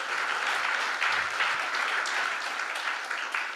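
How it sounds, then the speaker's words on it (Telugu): An audience at a youth Christmas gathering breaks into sustained applause, many hands clapping in a dense, even roar that holds steady at moderate loudness throughout. "చప్పట్లు కొట్టండి"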